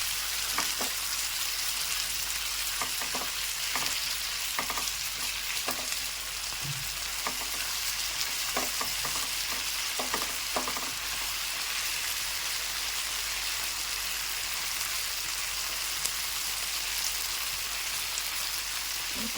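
Chicken pieces frying in oil give a continuous close crackling sizzle, dotted with sharp pops and spits that come and go irregularly over a long stretch.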